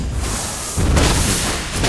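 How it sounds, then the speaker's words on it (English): A turret is destroyed in the Mobile Legends video game, giving a loud, dense burst of game explosion noise that swells partway through and stays full and heavy to the end. "Your team destroyed a turret."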